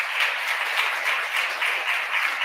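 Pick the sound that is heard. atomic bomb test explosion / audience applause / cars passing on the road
audience applause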